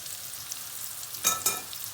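Chicken and mushrooms fry on high heat in a pan, a soft steady hiss that swells into two brief louder sizzling bursts partway through.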